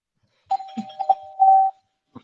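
A doorbell rings in short chimes near the microphone, several quick tones and then a longer held ring, followed by silence and a brief faint sound at the end.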